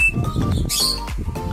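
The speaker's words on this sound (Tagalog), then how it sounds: "ang iingay ng mga ibon natin dito" Pet parakeets and other small birds in a breeder aviary chirp and tweet noisily at close range, sharp calls overlapping in quick bursts.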